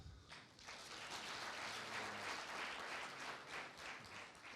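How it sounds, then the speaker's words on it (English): Sustained applause from an audience at a youth forum panel session, dense and even clapping throughout with a brief dip near the start, no voices over it. "I think he deserves a big applause."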